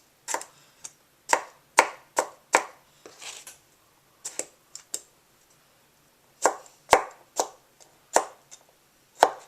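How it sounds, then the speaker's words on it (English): A knife chops cucumber slices into small pieces on a cutting board for bibimbap, with close, crisp, irregular knocks in quick bursts and a short pause midway. "just chop these 2 slices into small pieces"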